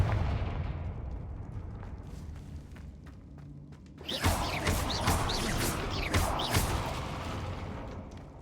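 A Confringo blasting spell from Hogwarts Legacy erupts in a sudden loud burst midway, after a quieter stretch of low rumble, then crackles and echoes with several further sharp blasts.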